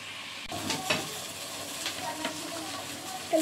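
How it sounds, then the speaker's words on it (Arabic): Samosas frying in hot oil, a steady soft sizzle with crackling bursts and occasional stirring clinks, fairly quiet and close. "نحمر السمبوسه."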